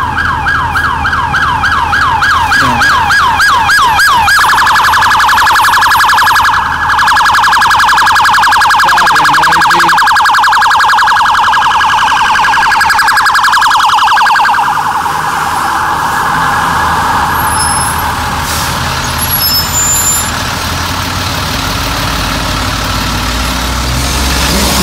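A police car siren wails loud and close, switching between a rapid yelp and a long steady tone over engine rumble, then slowly fading as the vehicle moves off.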